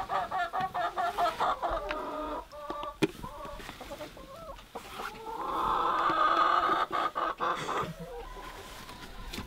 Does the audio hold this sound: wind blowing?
no